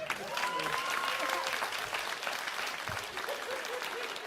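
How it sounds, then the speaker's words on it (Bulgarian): An audience in a TV comedy show studio breaks into applause, a steady, dense wash of clapping held evenly throughout at a fairly soft level. "Аплодисменти!"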